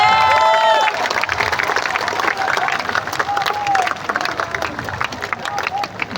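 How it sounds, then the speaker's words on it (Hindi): An audience claps loudly and steadily at a Jan Suraaj political gathering in Bihar, welcoming a new party president. A speaker's voice rises briefly at the start, with crowd murmur beneath the applause. "जोरदार ताली बजाइए।"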